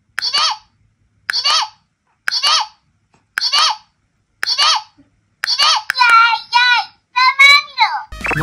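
Wani Wani Panic capsule toy crocodile game playing its special electronic sound, a series of short repeated bright chirping voice-like bursts in steady rhythm, then faster warbling calls, close and loud.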